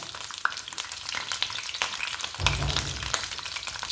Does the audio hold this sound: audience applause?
no